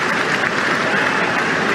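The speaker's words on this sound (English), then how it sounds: "That's the applause you can hear down beneath us as they move to our left down towards the north stand end" Stadium crowd at a Coventry City versus Middlesbrough Championship playoff applauding players coming out to warm up: dense, steady wash of clapping from many people, loud and continuous throughout.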